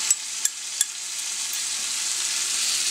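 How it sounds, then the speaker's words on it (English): A mixture of tomato sauce, vegetable broth and apple cider vinegar simmers in a pan, a steady hissing sizzle with a few brief ticks at the start, close and alone. "That will simmer for approximately the next 10 minutes"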